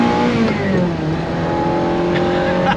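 A 1992 Ferrari 348 engine pulls hard while driving, a loud, steady, close-up rising drone of revs with smooth pitch climbs throughout, heard from inside or near the car.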